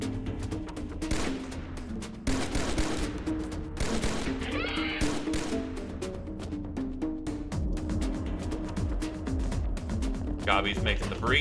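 Gunfire in the XPiratez strategy game, with rapid bursts of shots and crashing impacts under steady talking throughout.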